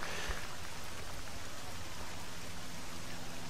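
Steady rainfall in the Tiger Woods PGA Tour 14 golf game, a constant even hiss of rain on the course with no talking over it.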